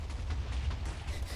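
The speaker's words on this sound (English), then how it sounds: "Now you have a whole bunch of explosions going off" A rumble of many creeper explosions in Minecraft going off together, heard as one dense, muffled boom with no talk over it.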